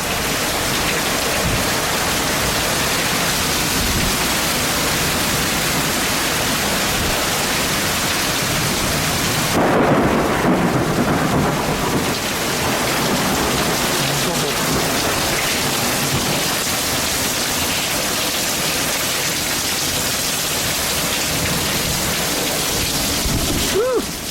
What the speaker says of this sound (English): that big storm has finally started.